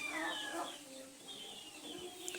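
Chickens cluck and murmur softly at a moderate distance, a few drawn-out calls overlapping through the quiet yard.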